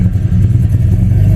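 A cammed Ford EL Fairmont Ghia engine idles at a slightly raised speed after a computer reset, giving a loud, steady low rumble with a lumpy, uneven pulse throughout and no talking.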